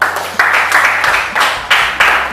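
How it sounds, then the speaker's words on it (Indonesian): Students in an Indonesian primary classroom break into loud group applause during a history lesson. The clapping pulses in rhythmic surges, close and full, over about two seconds. "Tepuk tangan buat kita semua."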